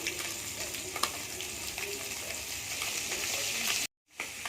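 Panch phoron spices crackle and sizzle in hot mustard oil in a kadai, a steady dense frying hiss with faint stirring clicks, cut by a brief silent gap near the end before the sizzle resumes.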